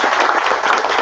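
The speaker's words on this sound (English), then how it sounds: "let's give them a round of applause for being here" An audience at an academic lecture event claps in a steady, dense wash of applause that fills the whole short moment with no pauses.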